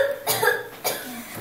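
Two sharp coughs from a person feeling ill with a sore throat, close and fairly loud, separated by a short pause, with no talk in between.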